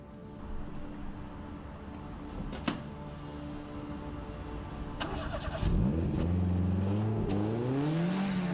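A car engine starts and pulls away close by, its revs rising in a couple of stepped climbs, after a door-like thump and some faint rustling.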